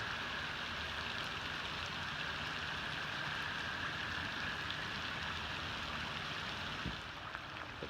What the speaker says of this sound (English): Hopefully the rain will slow down just enough